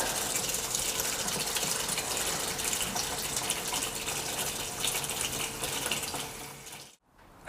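Engine oil drains from a VW Golf GTI Clubsport in a steady, close gushing pour that runs evenly for about seven seconds and then stops.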